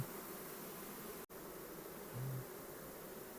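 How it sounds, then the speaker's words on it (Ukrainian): A swarm of honey bees hums in a dense, steady drone close by, with one brief dropout partway through and no voices. "Реально хороший рій попався."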